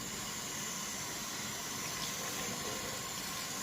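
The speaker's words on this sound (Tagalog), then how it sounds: "hinuhugas-hugasan ko lang ito ng maayos" Warm tap water runs steadily in a sink while something is washed in the Middle East, a constant soft hiss with no talk.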